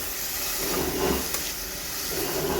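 Sliced onions sautéing in a pan for a fish curry give a steady, close hiss of sizzling, continuous and even with no talk over it.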